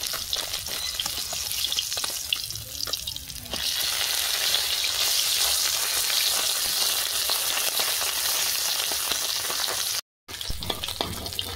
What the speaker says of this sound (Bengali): কড়াতে সাদা তেল দিয়ে দিচ্ছি, মাছ ভাজবো।